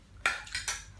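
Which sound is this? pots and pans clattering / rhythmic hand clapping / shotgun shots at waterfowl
pots and pans clattering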